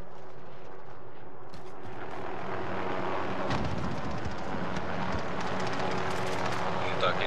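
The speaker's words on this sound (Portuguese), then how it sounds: "o helicóptero aterrou em cima de nós." Helicopter coming down overhead in a multiplayer shooter video game, a dense continuous rotor and engine roar that swells loud around the middle and stays close, mixed with other game noise and players talking.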